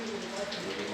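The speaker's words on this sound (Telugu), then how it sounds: "ఫుల్ వర్షం పడుతుంది" Heavy rain pours steadily at a dam guest house, a dense, even hiss of falling water that fills the whole moment without pause.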